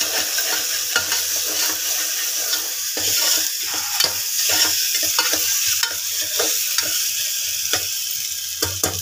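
Mutton being stirred in a hot pan with ginger garlic paste and turmeric, a loud close sizzle broken by repeated scraping strokes of a spatula, with no speech.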